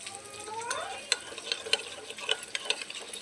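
A spoon stirs chili, coriander and cumin powder into water in a small bowl, giving close, soft scraping and clinking taps in an irregular rhythm, with a faint sizzle of frying in the background.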